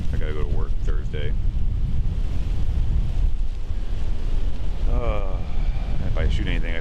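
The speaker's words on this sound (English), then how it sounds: "This wind is nasty." Strong wind buffets a microphone outdoors in Pennsylvania during rifle deer season, a constant loud roar of gusts with someone talking over it at the start and end.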